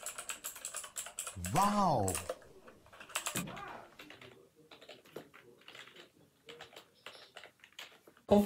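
Rapid clicking keystrokes from a mechanical gaming keyboard being typed on, close and fairly loud, with a brief voice-like sweep near the start and otherwise steady bursts of key presses.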